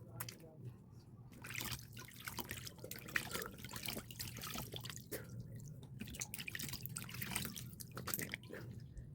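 Dirty washing water drips and trickles into a basin while it is being changed, soft irregular drops and splashes heard close up under a quiet voice speaking.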